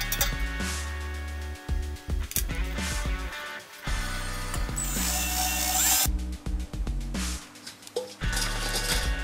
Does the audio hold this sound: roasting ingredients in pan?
no